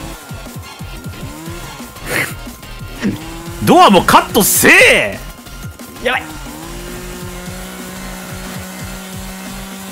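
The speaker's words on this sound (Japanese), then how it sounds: "うるせえなエンジン音。" An engine drones loudly in the horror video game Escape the Backrooms, rising and squealing in bursts before settling into a steady hum, with a player talking over it.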